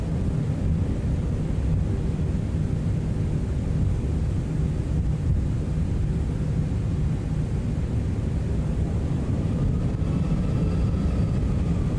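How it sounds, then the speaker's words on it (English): An airliner in the X-Plane 12 flight simulator taxis out for departure, a steady deep engine rumble and broadband roar that holds constant throughout with no talking. "Just taxiing out now for our departure."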